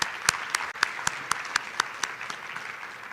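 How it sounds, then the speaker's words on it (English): An audience in a conference hall at the Yerevan Dialogue applauds a panel with crisp, evenly spaced claps in a steady rhythm, clear and fairly close over a low room hum. "I hope that our public will join us in applauding this wonderful panel."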